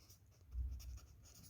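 Chalk or marker writing on a board during an organic chemistry lesson, a brief faint scratching with soft low thuds from the strokes, no voice present.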